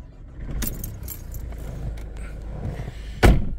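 Keys jangle near the ignition of a used car with 34,269 miles and a paddle-shift gearbox, with soft rustling and clicks, then a sharp short burst near the end as the engine is started.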